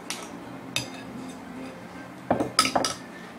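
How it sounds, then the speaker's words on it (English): A utensil stirs softened butter into melted chocolate in a bowl, making soft scraping with a few sharp clinks against the bowl. The clinks cluster near the end, faint and close, with no talk over them. "I'm going to stir it up before I put it in the microwave again"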